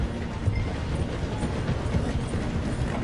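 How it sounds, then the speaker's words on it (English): A train in a video game rolls slowly through a station, a steady near rumble with faint rhythmic clatter of the carriages, continuous for the whole stretch and no one talking over it. "The train is slowing down to go through the station."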